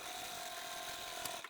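A sewing machine runs steadily while stitching a double-folded fabric hem on an apron, a brief, faint, even whirring hum.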